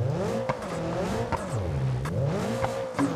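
A Peugeot 405 engine revs hard and continuously, its pitch swinging up and down with throttle while climbing off-road in BeamNG.drive, loud and close, with occasional knocks from the suspension or terrain.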